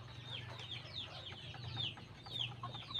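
A pet rooster named Norbin clucks repeatedly in a coop, soft chirpy calls coming in quick irregular bursts over a steady low background hum, with no talking.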